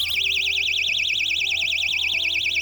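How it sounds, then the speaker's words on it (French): A keychain personal safety alarm shrieks continuously at close range, its piercing electronic tone warbling rapidly up and down without a break, loud and steady, with faint clicks in the background. "Ensuite, on a le bouton d'alarme."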